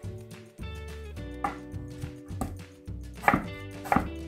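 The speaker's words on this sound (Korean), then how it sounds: "그러니까 이렇게 이것도 큼직큼직하게 이렇게 썰어 주셔요." A pear being cut into large chunks with a knife on a cutting board, with a series of irregular close chopping knocks over quiet background music, no talk.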